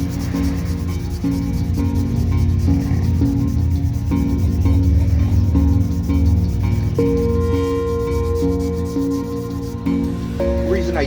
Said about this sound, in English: use these short blocks is it's a lot easier to control a small area that you're trying to sand in